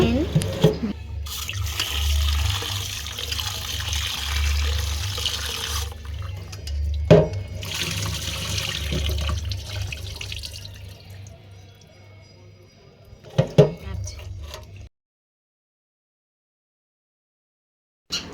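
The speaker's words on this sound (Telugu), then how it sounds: "చికెన్ అయితే వాష్ చేస్తున్నాను కొంచెం సాల్ట్ అండ్ పసుపు వేసుకొని వాష్ చేసేసుకున్నాను" Tap water runs steadily while raw chicken is washed with salt and turmeric in a home kitchen ahead of making chicken biryani, with a few louder splashes and clatters before the flow stops and near silence follows.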